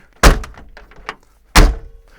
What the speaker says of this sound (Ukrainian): Зараз секунду закрию двері.